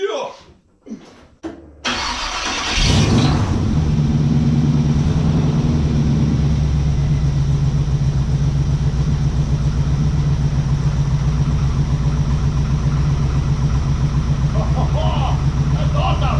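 Home-built Ratmaro car engine cranking and catching after a few seconds of handling noises, then settling into a loud, steady, rumbling run close by for the rest of the clip, with a voice calling out near the start.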